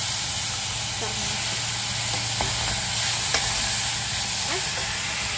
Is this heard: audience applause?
no